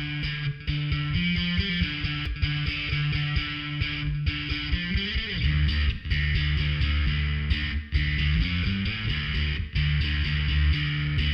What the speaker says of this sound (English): This is the Gallien Krueger RB1100 Series 2 run through the SWR Megaliath with the Sansamp going for some dirt.